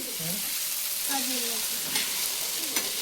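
Onion and tomato for kharda, a spicy green chilli relish, being sautéed in a pan: a continuous close sizzle and crackle with a few scraping stirs of a spoon, and no talking.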